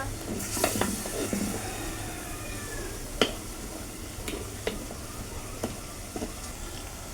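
Kerala fish curry being stirred and mixed in a pan, with a spoon scraping and clicking against the metal in scattered strokes over a soft background sizzle, close and fairly quiet.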